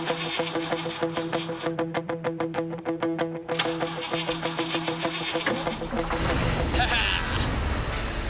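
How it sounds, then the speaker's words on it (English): A swather's engine cranks in a rapid, pulsing rhythm on a roadside shoulder, then catches and settles into a louder, rough, steady roar. "pull over onto the narrow shoulder in an attempt to restart the swather's engine"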